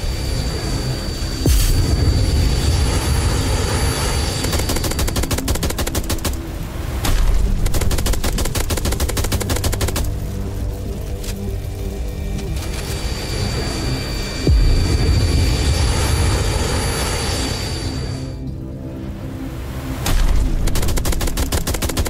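Enemy gunfire in a horror video game: repeated bursts of rapid shots crackle in waves with short lulls between them, loud and close over a low droning rumble, no talking.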